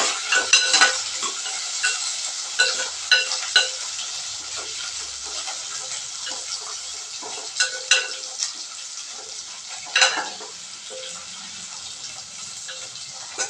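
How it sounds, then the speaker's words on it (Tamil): Drumstick, green chilli, onion and tomato sauté in a pan with a steady low sizzle, broken by intermittent clinks and scrapes of a stirring spoon, close by. "அதுக்கப்புறம் முருங்கைக்காய், பச்சை மிளகாய், வெங்காயம், தக்காளி இதை மட்டும் போட்டு நம்ம வதக்கிக்கலாம்."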